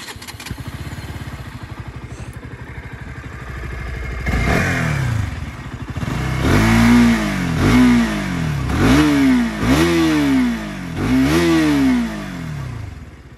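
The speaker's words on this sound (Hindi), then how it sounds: "अब हम सुनते हैं इसकी आवाज़ अंडर वैली एग्जॉस्ट की" A KTM RC 200 motorcycle with stock exhaust idles with a rough clatter, then its engine revs repeatedly in swelling, falling bursts, about five loud throttle blips close by.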